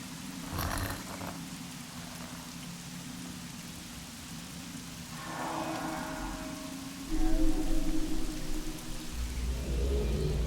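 Steady rain falls in the video game Myst V: End of Ages, with a low rumbling swell building midway and growing louder toward the end, close and continuous with no speech.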